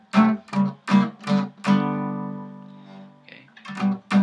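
Swing-style guitar chords fingered on the middle strings, several short strummed stabs in a rhythmic pattern, one chord left ringing out before more clipped strums.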